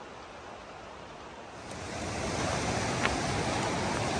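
Baxter Creek flows beside a campground on the Benton MacKaye Trail, a continuous broadband rushing of water that swells louder midway and then holds steady, with no voices.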